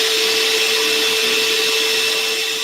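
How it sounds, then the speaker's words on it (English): Small vacuum cleaner running steadily close by, sucking lint out of a sewing machine's bobbin case, a loud continuous motor whine with a sharp steady tone throughout and no talking. "I'll turn on my vacuum, which I keep underneath my sewing machine, and clean it out."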